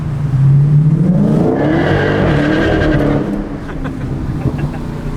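A Dodge Challenger Hellcat with a muffler delete accelerates close by at a little over quarter throttle, its loud, raw exhaust roaring and rising, then settling into a fading rumble.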